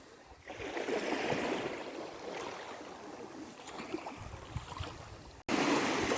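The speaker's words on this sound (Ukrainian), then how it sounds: "я просто насолоджуюся цим морем, цим шумом хвиль" Black Sea waves at Odesa wash and hiss steadily nearby, with broad surf noise rising and falling and a brief break near the end.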